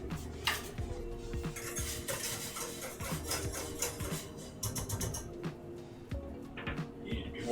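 Metal whisk clattering and scraping steadily in a pot of pork stock, busy rhythmic kitchen clinks close up with no talk.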